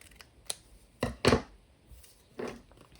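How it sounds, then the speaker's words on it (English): Scissors snip around a folded paper template for a file folder pocket tag, giving a few short, crisp cuts spaced a second or so apart, quiet and close with no talking. "So I'm just going to cut around."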